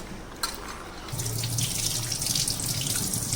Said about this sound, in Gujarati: 2 થી 3 પાણીમાં ધોઈ કાઢો.